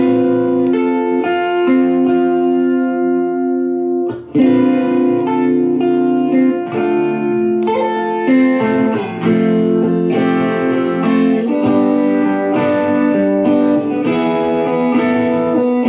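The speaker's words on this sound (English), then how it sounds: "when I turn on this Phase 95, which it's on the Phase 90 setting, it sounds like this" Strummed electric guitar chords run through a Phase 95 phaser pedal on its Phase 90 setting, giving a continuous swirling, warbling sweep over sustained chords played alone.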